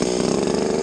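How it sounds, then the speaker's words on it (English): A Stihl hybrid chainsaw being pull-started on choke at a tree-felling site gives a short, loud, buzzing engine burst close by. "Gotta pull it over a couple times with the choke and then shut it off."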